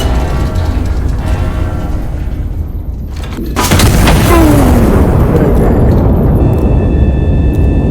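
A heavy turret gun in the Iron Nest: Heavy Turret Simulator game fires once partway through, a loud deep boom that breaks a droning background and leaves a long rolling rumble afterward.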